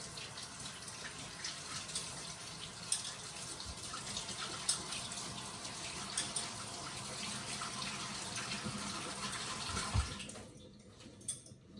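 A mixing bowl used for egg whites is washed under a running tap, giving a steady close splash of water with a few brief knocks against the bowl before the flow stops near the end.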